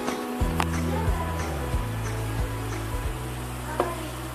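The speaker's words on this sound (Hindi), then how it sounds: "ये प्याज हो रही है, ब्राउन नहीं करना इसको प्याज को, बस थोड़ा सा हमने इसको नरम कर लेना, सॉफ्ट हो जाए।" Chopped onions sautéing gently in a pan until soft for baingan bharta, a steady close sizzle with a few scraping stirs of a spoon against the pan, with no voice over it.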